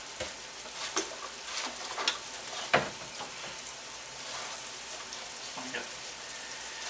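Soft taco filling sizzling and frying in a pan while being stirred, a quiet continuous crackle broken by scraping stirs and small sharp clicks of the utensil against the pan.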